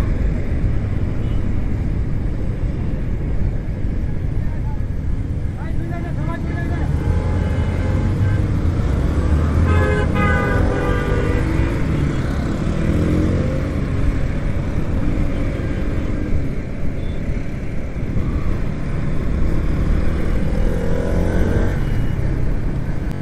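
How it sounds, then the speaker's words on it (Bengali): A CF Moto motorcycle launch rally in Narayanganj, hundreds of bikes massed together, horns sounding in bursts and engines revving over a constant rumble of idling machines and crowd noise. "অনেকগুলো বাইক, প্রায় 200-300 মতন বাইক হবে মেবি।"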